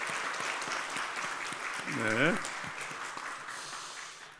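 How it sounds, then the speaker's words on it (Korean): Church congregation clapping in encouragement during a Sunday worship service, a steady patter of many hands with a person's voice briefly speaking over it midway. "우리 격려의 박수 한번 해주셨으면 감사하겠습니다"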